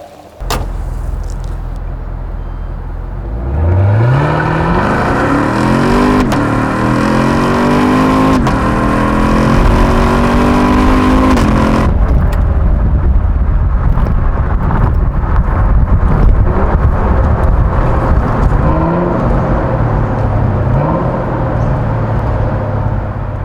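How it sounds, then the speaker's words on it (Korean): A 2016 Chevrolet Camaro SS with a naturally aspirated 453-horsepower V8 and eight-speed automatic drives the rear wheels. It roars loudly up through the revs, shifts with a brief drop, then keeps pulling hard under heavy wind noise. "자 그럼 잠시 카마로 SS와 함께 달려보겠습니다."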